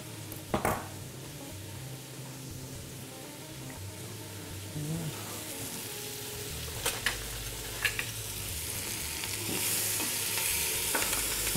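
Chopped onions and leeks sweat in a saucepan with a steady, soft sizzle, broken by a few sharp clinks and scrapes of a utensil stirring against the pan, with no talking.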